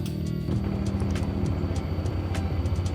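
A Honda ADV 160 scooter engine runs at a steady, rumbling idle close by, its low pulsing drone constant throughout, with faint clicks on top.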